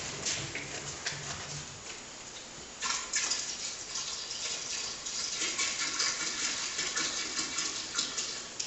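Non-toxic -50 plumbing antifreeze poured from two jugs into a plumbing system during winterizing, a soft steady gushing and glugging of liquid, fairly quiet and continuous.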